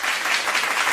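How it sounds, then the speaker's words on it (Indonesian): An indoor audience at an Indonesian civil service seminar breaks into steady, dense applause, loud and close, filling the whole moment without talk. "Ya, tepuk tangan untuk kita semua."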